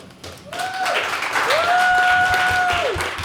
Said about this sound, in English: Let's first off start off giving a round of applause.